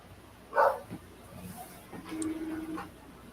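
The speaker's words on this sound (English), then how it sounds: "No, that's the neighbor dog. But I'm like this right here. They be having barking wars." A neighbor's dog barks once sharply nearby, followed by fainter yips and a whimpering tone, as a person speaks softly in the background.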